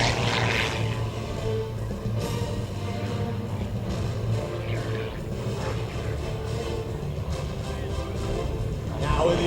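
An aerobatic propeller airplane tumbles through the sky at the 2012 Tuscaloosa Regional Air Show. Its engine drones steadily at a distance and rises and falls slightly, with crowd noise and announcer talk over it.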